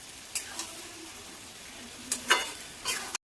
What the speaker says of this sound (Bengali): এখন আমি দিয়ে দিচ্ছি খাসির ধুয়ে রাখা মাংসগুলো। এগুলো ভালো করে নেড়ে নিচ্ছি।